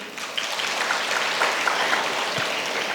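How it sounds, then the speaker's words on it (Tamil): Sustained applause from a college audience at a postgraduate inaugural function, steady and fairly loud clapping filling the whole stretch without a break. "கைத்தட்டலாம்."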